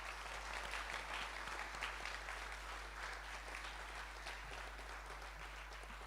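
Steady applause fills a school hall at a college sports and cultural prizegiving, many hands clapping evenly throughout, moderately distant beneath a low constant hum.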